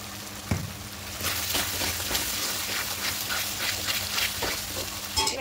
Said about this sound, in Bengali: দেখুন তেল ছাড়তে শুরু করা পর্যন্ত এটা একটু কষিয়ে নেব